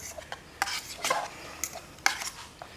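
Spoon stirring mac and cheese with beef stick in a metal canteen cup, a quiet series of scraping, clinking strokes against the metal close by.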